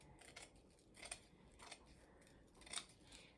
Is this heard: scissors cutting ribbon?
yes